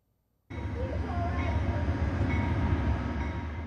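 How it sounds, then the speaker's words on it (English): The Amtrak Empire Builder passenger train passes close by with a sudden, loud, steady rumble and rolling roar that continues without a break. "It's an example of a passenger train, the subject of this video clip."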